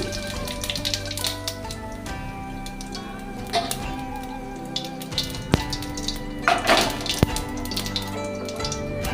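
White cumin seeds sizzle in hot oil as a tempering for a vegetable curry, giving a loud, steady, dense crackle that carries on without a break and with no voices.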